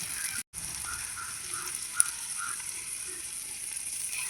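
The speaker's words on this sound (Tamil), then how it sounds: "வெங்காயத்தை வதக்கிக்கணும்." Onions sautéing in a pan for a village-style egg curry give off a steady, soft hiss of sizzling that runs unbroken except for a brief dropout near the start, with no talking.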